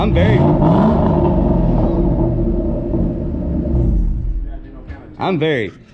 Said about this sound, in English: The car sounds amazing. Didn't hear no exhaust leaks.